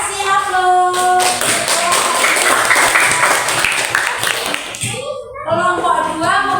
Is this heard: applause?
yes